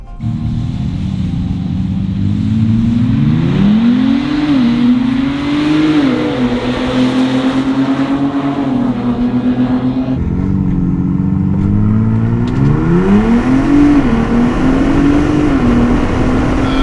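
Ford Bronco Raptor launches hard at full boost in a drag race, its engine revving loud and close, climbing through gears with pitch sweeps and shift dips over about seventeen seconds.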